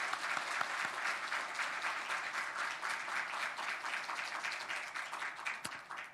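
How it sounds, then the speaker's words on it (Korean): A church congregation applauds to welcome two pastors, steady dense clapping from a large crowd filling the room throughout, without letting up. "우리 박수로 한번 환영하고 축복합니다."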